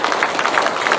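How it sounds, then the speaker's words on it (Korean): A crowd at a Korean political party rally breaks into loud, dense applause, a continuous wash of many hands clapping close together for a brief moment, with no speech over it. "박수 부탁드리겠습니다"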